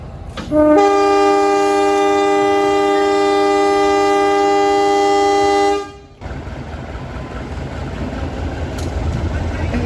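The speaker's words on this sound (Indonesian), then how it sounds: "ternyata kereta api Kuto Jaya Selatannya berhenti normal di stasiun Gandrung-Mangun ini" A Kuto Jaya Selatan train sounds a long, loud, steady horn blast for about five seconds as it stops at Gandrung-Mangun station, then cuts off, leaving nearby rumbling station and carriage noise.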